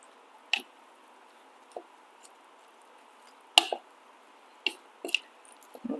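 Raw lentils being stirred in a pot of soaking liquid, a few faint scattered wet squishes and clicks in an otherwise quiet room.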